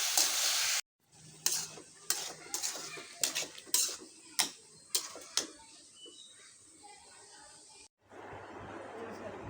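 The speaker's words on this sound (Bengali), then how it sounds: "এখন সুন্দরভাবে নেড়ে চেড়ে মিশিয়ে দেব।" Onions and salt stirred together in a pan over a gas stove, a run of sharp spoon clacks and scrapes over a soft sizzle, close by, with a few breaks of near silence.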